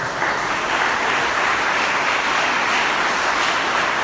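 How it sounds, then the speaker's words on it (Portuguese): A church congregation applauds loudly and steadily, a dense, continuous wash of clapping that fills the space without a break. "Você pode aplaudir o Eterno bem forte?"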